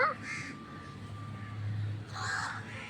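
A crow gives two short harsh caws, one at the start and one near the end, fairly faint against quiet background hum.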